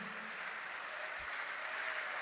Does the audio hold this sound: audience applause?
yes